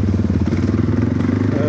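Dirt bike engines, a 350 with an FMF exhaust and a 450 with an Akrapovic exhaust, running before a short warm-up ride, giving a loud, close, pulsing engine rumble.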